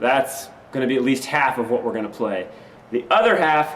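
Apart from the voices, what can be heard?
No distinct noise like a dog, phone or traffic.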